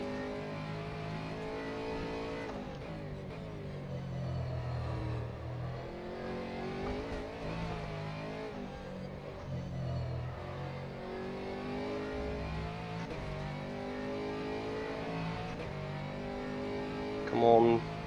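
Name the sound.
Aston Martin Vantage GT3 engine in a racing video game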